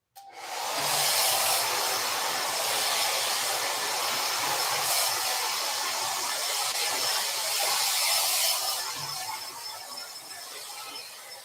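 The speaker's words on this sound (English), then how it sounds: "I'm going to do a little blow drying now because I don't want the yellow to show anymore." A hair dryer blows steadily on a painted canvas, a continuous breathy hiss that stays even for about ten seconds before easing off slightly.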